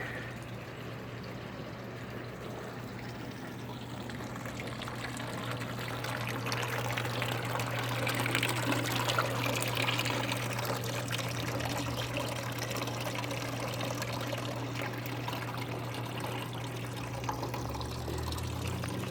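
Water runs from a tap into a garage sink, a steady rushing pour that swells slightly toward the middle and holds at a moderate level for the whole stretch, alongside a low constant hum.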